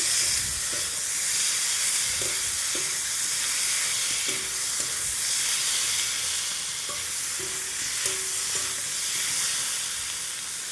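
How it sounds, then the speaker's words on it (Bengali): Potatoes stirred in a pan with spices cooked down for an egg curry, giving a steady sizzling hiss with light scraping and clinks of the spatula throughout, close and continuous with no talk. "মশলাগুলো কষানো হয়ে গেছে আলুগুলো দিয়ে দেবো এবার আলুর সাথে ভালো করে একটু নেড়ে চেড়ে"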